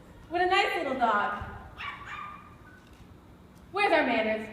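A small dog barks in a middle school dress rehearsal, two bright bursts of yips with a softer whine between, close and clear amid room noise; it may be a performer imitating the dog.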